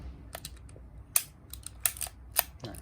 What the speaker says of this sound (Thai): กดถ่ายปุ๊บ ก็ใช้งานได้ปกตินะครับ สังเกตการเปิดปิดชัตเตอร์ ใช้งานได้ดีนะครับ